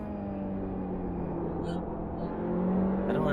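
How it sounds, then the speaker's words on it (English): A touring race car in the iRacing simulator at Indy drones steadily with a sustained engine note and tyre noise, rising slightly toward the end. "I can hear the tyres better, I find."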